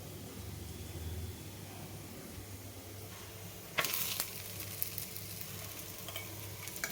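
Black salsify curry sizzles softly in a pan with ghee, an even hiss broken by a sharp scrape and clatter of stirring partway through, close but quiet and free of talk.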